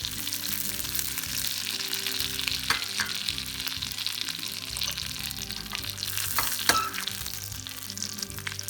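Paprika and red pepper flakes sizzling in melted fat, a close continuous frying hiss with a few louder stirring scrapes, no voices.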